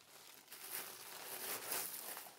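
A Mitchell & Ness Jerry Rice San Francisco 49ers jersey being unwrapped from wrapping paper, giving steady close crinkling and rustling of paper with faint tearing, no voices.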